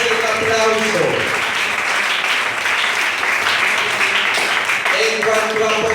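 Loud, dense applause from a church congregation during a sermon fills the space for several seconds, with voices rising underneath and a preacher talking over it.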